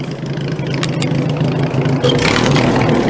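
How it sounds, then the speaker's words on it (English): Tractor engine idling and misfiring badly, a steady low rumble with uneven stumbles and pops running throughout, close and fairly loud with no talk. "Oh, tractor's missing something fierce today."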